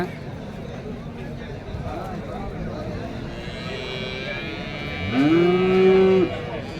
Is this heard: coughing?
no